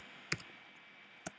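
The return key on a computer keyboard is pressed twice in a quiet room, giving two sharp, isolated clicks about a second apart.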